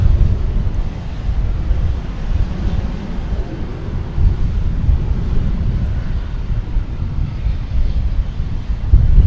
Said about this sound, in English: American Eagle flight 3373 from Fargo in Embraer 175, which is about to enter our viewing space